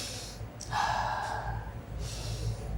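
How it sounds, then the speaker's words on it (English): An adult demonstrates a normal, unhurried breath for a talk on children's breathing: a soft inhale followed by a longer audible exhale, close to the microphone, with a faint second breath at the end. "that's a normal breath"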